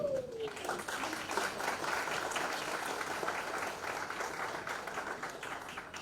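Audience applause at a book launch event fills the hall with steady, dense clapping held at an even level from start to finish.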